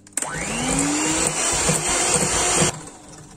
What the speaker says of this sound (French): وغادي نضربوهم بالطراب الكهربائي